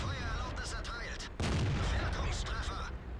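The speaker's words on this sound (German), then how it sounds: "konnte ich hier ganz gemütlich meine Schüsse raushauen, einen nach dem anderen" Tank cannon shots in the video game World of Tanks, a few sharp booming blasts fired one after another, one especially loud near the middle, over a rumbling game background.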